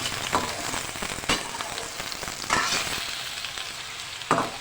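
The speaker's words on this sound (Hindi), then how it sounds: "झींगे को फ्राई करेंगे।" Prawns with garlic ginger paste sizzle loudly in hot oil over high heat, a steady crackling hiss with a few sharper spits and stirring bursts.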